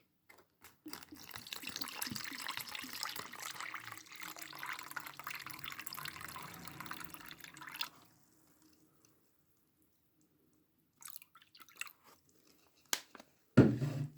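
Water pours into a Romanian Army individual combat ration meal pack, a steady close splashing and gurgling for about seven seconds, then silence broken by a few crinkles and handling noises.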